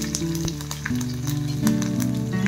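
Cumin, curry leaves and ginger-garlic sizzle and crackle steadily in hot oil in a pan, a loud, close, continuous fry with a few stirring clicks.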